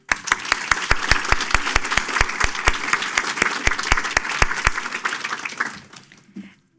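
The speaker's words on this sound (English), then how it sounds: "Please join me in one more round of applause for our amazing speakers." A crowd applauds speakers at a charity foundation event, steady dense clapping with a few sharp, louder claps standing out, then the applause fades away toward the end.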